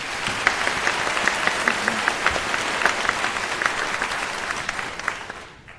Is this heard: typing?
no